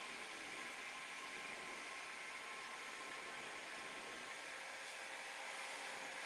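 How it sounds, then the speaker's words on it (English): A heat gun blows steadily while warming a trim strip, a continuous, even, faint whoosh of fan noise with no talking. "heat gun is a little quicker."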